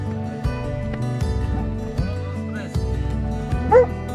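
Dogs give a few short barks and yips over a noisy outdoor background at Fossil Creek Trail, with some voices nearby.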